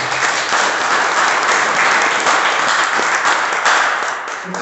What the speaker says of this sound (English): let's give Chris a round of applause